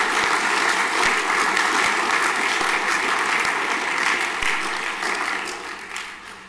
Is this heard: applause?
yes